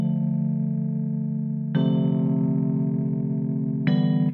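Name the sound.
wah effect on smooth Afrobeat Amapiano chords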